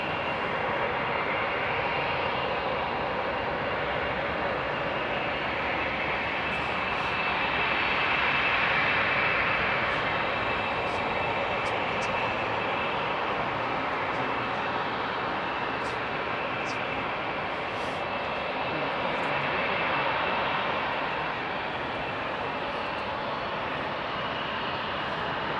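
Etihad airliner taxiing at night at Heathrow Airport, engines powering up for a slight ramp, a steady broad jet roar heard from a distance, continuous and even with a gentle swell, no talk.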